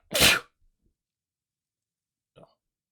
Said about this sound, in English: trying to clear my nose. That's why I sneezed.